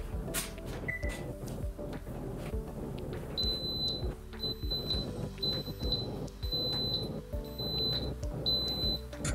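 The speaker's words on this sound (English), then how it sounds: "After 8 hours, the alarm goes off" A yogurt maker's timer alarm, a high electronic beep repeating in short pairs at a steady pace, over quiet kitchen background noise.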